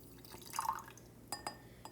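A short, light splash of distilled water poured from a graduated cylinder into glassware in a lab. It is faint and close, with a few soft drips and glassy clinks.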